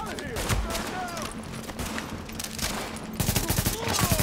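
Burst gunfire in The Division, rapid clustered shots crackling in several volleys with a louder flurry near the end, mixed with game ambience and a voice talking underneath.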